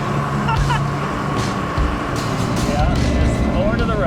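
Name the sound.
tank being driven at Drive a Tank, Minnesota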